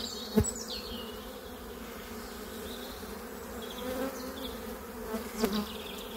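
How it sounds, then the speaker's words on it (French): A dense swarm of honeybees on hive frames hums steadily at close range, with a few individual bees buzzing past the mic. "Trop d'abeilles sur ces cadres pour voir quoi que ce soit."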